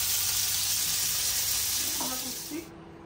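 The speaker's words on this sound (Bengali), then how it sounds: "ছোট জামাইয়ের জন্য চিংড়ি ভাজি করতেছি।" Shrimp (prawns) fry in a pan with a loud, continuous sizzle that softens slightly toward the end.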